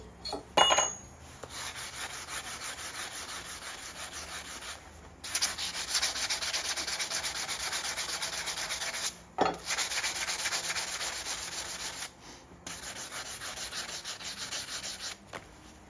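Sanding burrs off the rail of a chainsaw bar makes steady close-up rubbing strokes broken by short pauses, with a faint high whine running underneath.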